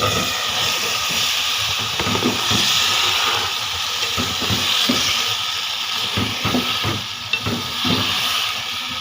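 Radish pieces go into a spice mixture already frying in a pan, giving a loud, continuous sizzle broken by rhythmic stirring scrapes.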